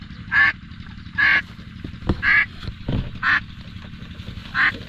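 Ducks being herded, honking and quacking loudly in about five evenly spaced bursts, with scuffs and thuds of movement between calls.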